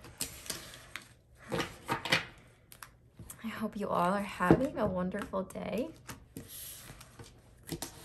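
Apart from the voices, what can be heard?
shuffling large tarot cards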